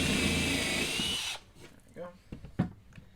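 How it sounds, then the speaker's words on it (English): A power drill whirs steadily for just over a second while driving a screw into wood for a DIY ultra short throw projector mount, then cuts off, followed by faint clicks, handling noises and a bit of speech. "I'm just putting the screws in approximately the 4 corners"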